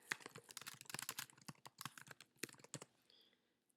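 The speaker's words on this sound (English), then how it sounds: "I would just start typing in your name" Fingers type on a computer keyboard in quick irregular bursts of close, crisp key clicks that thin out and stop near the end.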